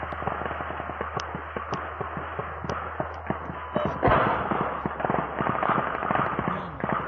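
Gunfire from a firefight in the Ukraine war cracks in the distance, a steady run of sharp shots and pops over a low rumble, growing denser and heavier partway through, with no talk.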